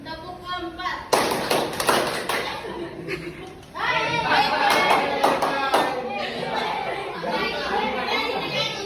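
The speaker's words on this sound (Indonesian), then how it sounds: "Tepuk empat." Schoolchildren in a classroom clap in counted bursts of sharp, loud claps, mixed with busy chatter and a voice calling out between rounds.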